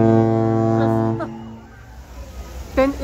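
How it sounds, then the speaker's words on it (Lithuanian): A distant ship's horn, from another vessel near a cruise ship starting its voyage toward Katakolon, sounds as a long, steady low blast lasting over a second, followed by quieter ambience and a brief second tonal burst near the end. "Kitas laivas mums atsako."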